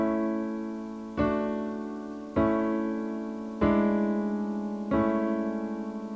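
Piano chords struck four times at a slow, even pace with the sustain pedal held down throughout, each new chord piling onto the still-ringing previous ones into a blurred, muddy wash of overlapping notes.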